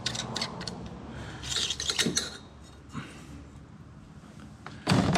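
A handheld riv nut tool squeezes and sets a rivet nut on a golf kart being built for a race, giving quiet mechanical clicks and ratcheting squeaks, then a firmer snap at the end.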